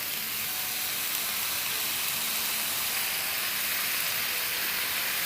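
Soy sauce hitting a hot pan of chicken chilli, producing a loud, steady hissing sizzle that stays even and continuous throughout.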